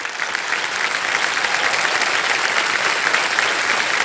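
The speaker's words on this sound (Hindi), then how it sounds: "कुछ तालियां बज जाए इनके लिए।" Studio audience applause at a television quiz show fills the stretch with steady, dense clapping from a large crowd, loud and continuous without a break.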